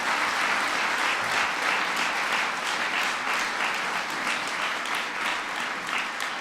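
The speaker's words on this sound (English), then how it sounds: "You can give her a round of applause." Loud, sustained audience applause at a presidential event on the Precision Medicine Initiative, a dense wash of many hands clapping steadily throughout with no break.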